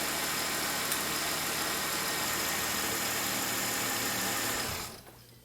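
A Mercedes E350 car engine idles with a steady mid-pitched hum and vibration, then cuts off abruptly near the end, leaving quiet.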